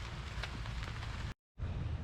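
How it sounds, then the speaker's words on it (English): Rain falls steadily at an outdoor theme park as a dense, broadband hiss with faint scattered drops, broken by a brief dropout of silence before resuming, with no voices. "be out here in the rain by myself at a theme park"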